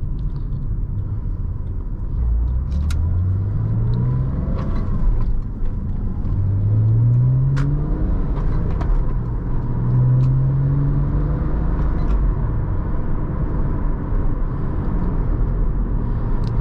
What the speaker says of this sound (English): Just a lot of fun driving this car.